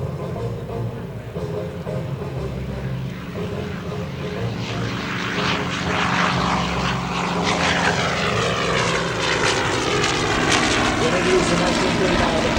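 Commemorative Air Force FG-1D Corsair, a WWII-era fighter, with its big propeller engine roaring steadily through a takeoff roll at the 2012 Tuscaloosa Regional Air Show, loud and sustained, the pitch rising as it builds speed, with an announcer talking over it.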